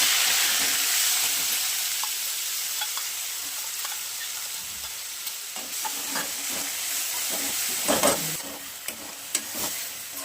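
Mustard seeds and cumin sizzle in hot oil for a thecha chutney: a loud, bright hiss fading slowly over time, with scattered spatula scrapes and small pops growing more frequent toward the end.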